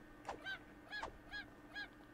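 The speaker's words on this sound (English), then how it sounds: "You basically just attack a chicken." A chicken squawking as it is attacked in the video game Craftopia, with four quick, evenly spaced honking clucks, fairly faint and without speech.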